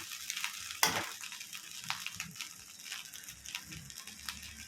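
Chicken rice is stirred in a frying pan, giving soft sizzling with scraping strokes and one sharp clink of a utensil against the pan, close and fairly quiet.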